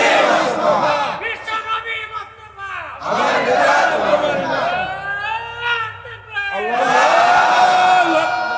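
A crowd at a Bengali Islamic tafsir gathering chants the slogan Nara-e-Takbir in loud, repeated call-and-response bursts of massed voices.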